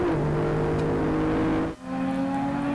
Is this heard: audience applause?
no